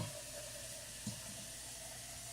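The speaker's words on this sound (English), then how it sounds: "fill like the can halfway up with water, and then you pour your water in" Water is poured from a can into a baking dish while making scalloped potatoes. It is a steady, soft splashing hiss, close by, with a small bump partway through.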